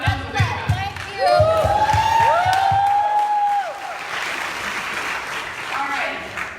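A church audience claps and cheers for a rap performer, starting with a burst of scattered applause that swells into a brief sustained cheer before fading into lighter clapping, while a voice speaks over it.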